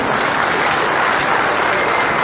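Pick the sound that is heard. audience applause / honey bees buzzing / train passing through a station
audience applause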